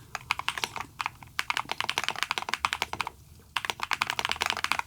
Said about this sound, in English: just listen for this typing,